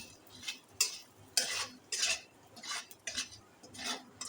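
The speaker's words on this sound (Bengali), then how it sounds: "এবার ভালো করে আমি মিশিয়ে নেব" A spoon stirs lentil dal with salt in a pot in a close, rhythmic run of about eight scraping strokes against the metal, with no voices.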